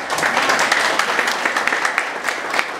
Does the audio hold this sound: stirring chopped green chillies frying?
no